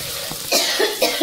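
A person with a heavy cough after a fever coughs several times in quick bursts, close and fairly loud, in a home kitchen.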